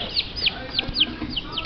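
Chicks peep in a quick run of about six close, clear chirps at an uneven rhythm, over a faint background murmur.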